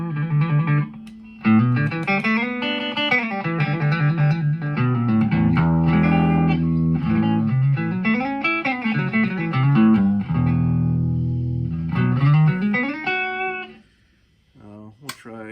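Vintage Fender Duo Sonic electric guitar, 1957 and 1965 models compared, noodled through an amp with loose chordal phrases and single-note runs, clear and close, pausing briefly before a final short burst.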